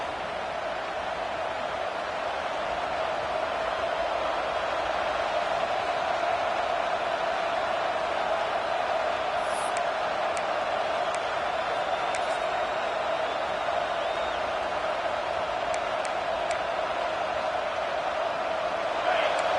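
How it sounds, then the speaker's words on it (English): A college football video game stadium crowd roars in a dense, unbroken wash of noise that holds at an even, loud level throughout, with a few faint higher tones flickering above it. "listen to this crowd noise. This stadium is vibrating."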